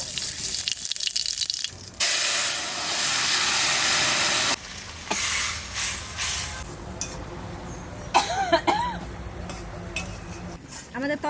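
Cumin seeds tempering in hot oil in a home Bengali kitchen, ahead of cooking khoira fish: a loud, steady hiss that bursts up and holds for a few seconds, then gives way to someone talking over quieter kitchen noise.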